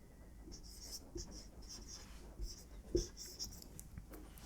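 Pen scratching across paper while writing out an equation by hand, a faint, continuous scribble of short strokes with a few louder taps, very quiet and close.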